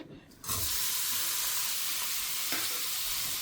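Capsicum sautéing in oil in a pan: after a brief quiet start, a loud, steady, close hiss of frying sets in and holds, with one faint clack of a utensil partway through and no talking.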